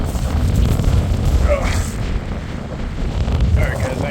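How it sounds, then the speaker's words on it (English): Strong wind on the open North Shore during a hike, buffeting the microphone with a loud, continuous low rumble and gusts, and faint distant tones drifting over it. "It's very windy, so there are waves a little bit."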